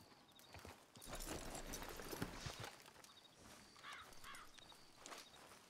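Hooves of a Belgian Draft horse clip-clop at a steady walking pace in Red Dead Redemption 2, fairly close and clear, with faint ambient game sounds and no talking.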